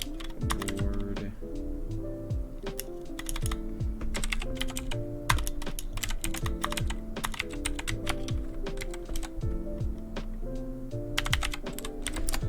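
Fast, steady typing on a Clix Cotton Candy 60% mechanical gaming keyboard: dense, crisp clacking keystrokes close to the mic with occasional heavier thocks, continuous throughout and with no talking.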